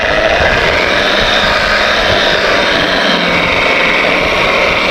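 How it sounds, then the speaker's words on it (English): Rotary buffer polishing the original 73-year-old paint on a 1949 Plymouth Special Deluxe, a steady, loud, continuous whirring drone with even grinding hiss that holds unbroken throughout. "Let the buffer do the work and just kind of glide it."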